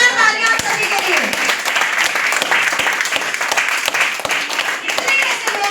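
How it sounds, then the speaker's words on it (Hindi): Steady applause from an audience at an International Men's Day event fills the whole stretch, dense and even, with a voice faintly audible beneath it. "एक बार जोरदार तालियां आप सभी के लिए।"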